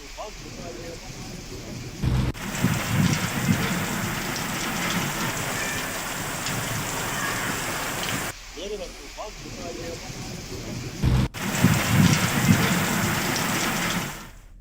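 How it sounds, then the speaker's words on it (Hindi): Heavy monsoon rain pours steadily and loudly throughout, a dense roar of drops on surfaces with a couple of sudden heavier bursts and brief dips; a voice is faintly present underneath. "बारिश अच्छी संख्या में हो रही है"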